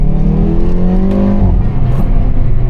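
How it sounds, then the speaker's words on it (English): A 2024 Hyundai i30N with a 2-liter turbo four-cylinder and 8-speed dual-clutch gearbox accelerating hard on a night drive, engine note rising through the revs and then dropping at a shift, loud and close. "I30N is powered by a 2-liter turbo 4-cylinder with 206 kilowatts"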